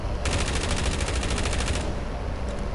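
Sustained burst of rapid automatic gunfire in a first-person shooter video game, a dense machine-gun rattle lasting about a second and a half and then cutting off, with no talk.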